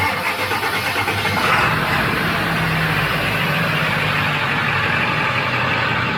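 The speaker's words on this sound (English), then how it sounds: "It's just mostly the engine clacking." The stock-exhaust Ford 7.3L Power Stroke diesel in a van idles loudly and close by with a steady low rumble and a rough clatter.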